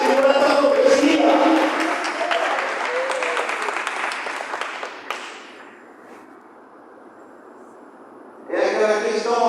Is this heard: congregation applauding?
yes